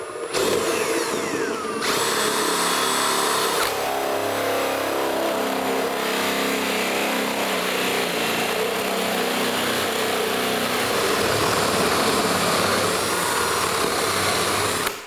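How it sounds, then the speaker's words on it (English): A drill spinning a hole saw at high speed cuts through a ceiling for a recessed light, producing a loud, steady whine and grinding close by for about fifteen seconds, with brief pitch shifts early on. "and we can drill our hole"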